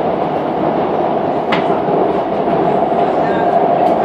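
A subway train on Rail Transit Line 1 runs with a steady loud rumble and rolling noise heard from inside the car, with a faint click or two over the constant drone.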